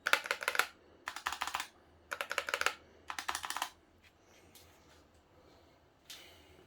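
Rapid clicking bursts from Razer Huntsman mechanical keyboards (V2 Analog, Mini, Tournament Edition), four close, crisp runs of keystrokes followed by quieter scattered taps and a single late key press, with no voices.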